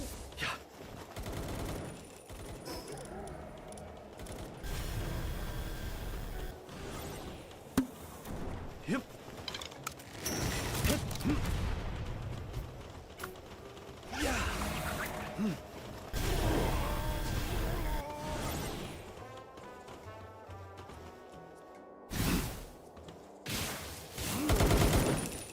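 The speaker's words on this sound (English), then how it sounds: "Taking a lot of random fire." Bursts of automatic gunfire in the Palworld survival game on Feybreak Island, loud volleys that keep coming in waves across the whole stretch, mixed with game effects and occasional mechanical clatter.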